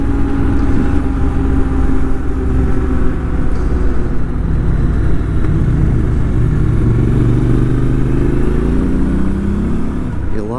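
A 2019 Triumph Scrambler 1200 XE cruises in fifth or sixth gear, its engine holding a loud, steady, smooth drone with wind rush, pitch gently shifting near the end; a rider talks over it.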